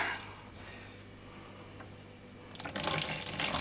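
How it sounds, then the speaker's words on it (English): Tap water runs into a sink as rice is rinsed, a faint steady stream that swells into louder splashing and sloshing near the end, with no talk. "So yes, we're rinsing the rice."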